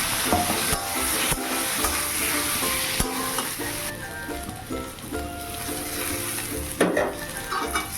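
Potato pieces fry and sizzle steadily in hot oil with cumin and coriander powder while a spatula scrapes and stirs the pan, with a few sharper clanks against the metal; no voices.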